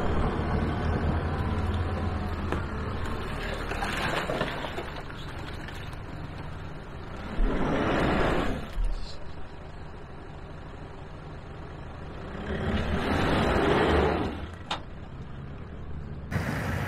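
A 4WD vehicle hauls another out of thick mud, with engines labouring in broad rumbling surges that build and fade twice, one near 8 seconds and a longer push near 13, over steady outdoor background noise.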